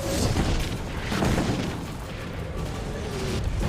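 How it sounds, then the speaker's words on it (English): Mortar fire against an advancing wave of tanks in a Vietnam War battle, heard as dull, rumbling booms and thuds over a dense, noisy battlefield backdrop. "The Americans fire mortars to try and stop the second wave of tanks."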